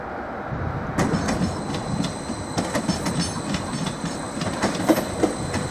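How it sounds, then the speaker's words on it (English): Class 755 unit 755416 rolls into Norwich station, its rumble swelling abruptly after a second of quiet, then a steady clatter of wheel clicks and squeals over a constant high tone. "now arriving into the station"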